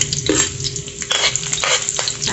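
Garlic dropped into preheated cooking oil sizzles and crackles while a utensil stirs and scrapes against the pan, with brief clinks of metal over the steady frying hiss.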